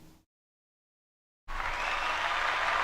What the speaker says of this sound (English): I got to get out an applause